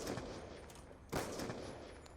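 Rapid gunfire bursts from Call of Duty Black Ops 2, a dense crackling fusillade that peaks in a sharp louder volley midway, with no talk.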